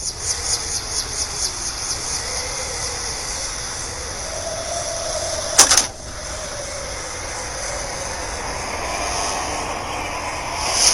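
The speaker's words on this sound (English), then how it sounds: "The helicopter's here." A helicopter arrives with a rhythmic rotor chop at first that smooths into a steady, loud roar under a high whine, broken by one short sharp burst midway.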